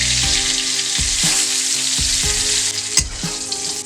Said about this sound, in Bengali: তো তেলটা গরম হয়ে গেলে আমরা আলুটা ভেজে নেব।